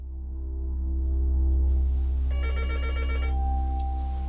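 A telephone rings in a quiet rural home, its bell tone sounding in a short burst partway through over a low steady hum, with no one speaking.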